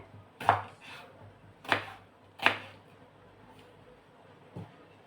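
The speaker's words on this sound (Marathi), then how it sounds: "टोमॅटो घेतला आहे मी त्याच्या अशा मोठे मोठे काप करून घ्यायचे" Knife chopping a washed tomato into large pieces on a board: three crisp chops in quick succession, then a lone softer cut after a pause, each close and distinct against a quiet kitchen.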